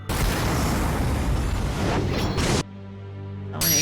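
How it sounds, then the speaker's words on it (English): Continuous loud explosions and booming blasts from the visual novel game Cafe Enchante, a dense rumbling barrage that cuts off abruptly, leaving a low hum before another burst of noise returns. "So many explosions."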